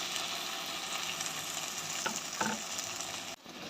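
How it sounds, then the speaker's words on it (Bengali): Marinated hilsa fish sizzles steadily in hot oil in a pan, a dense continuous frying hiss with a couple of brief louder pops, close and alone with no voices. "জাস্ট ম্যারিনেট মাছগুলো তেল একটু গরম করে ওর মধ্যে দিয়ে দেওয়া।"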